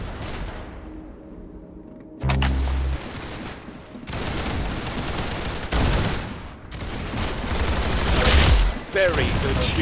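Gunfire in Roblox Arsenal, with rapid bursts of shots and heavy booming volleys that come in repeated clusters across the clip over a busy game background.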